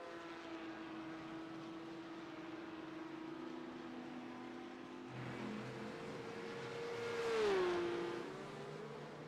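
A race car engine in the Virtual Belcar 24 Hours of Zolder sim race, holding a steady drone with a high tonal whine before swelling to a louder, rising then falling pass near the end; no voices.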